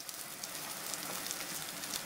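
Garlic and sliced onion sauté in a pan for vatha kulambu, a faint, even crackling sizzle that runs steadily throughout with no voices.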